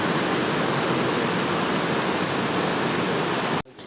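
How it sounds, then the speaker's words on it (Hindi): Heavy storm rain pours at night on Margala Hill near Islamabad. It makes a dense, unbroken roar, loud and close, and then cuts off abruptly just before the end. "ये और तेज़ हो गई है बारिश।"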